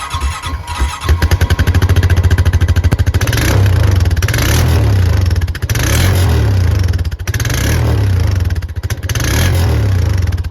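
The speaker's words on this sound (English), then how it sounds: "we're gonna start the engine, let it warm up for a few, and rev it a few times" A Honda Rancher 420 ATV engine idles loudly up close with a rough, rattling putter while warming up, then revs up several times in surges before settling back.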